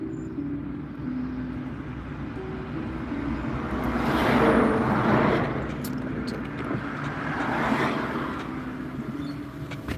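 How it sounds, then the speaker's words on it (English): Road traffic passing outdoors, a steady low rumble of vehicles with two louder swells as cars go by fairly near, no speech over it. "Traffic noise is distracting me."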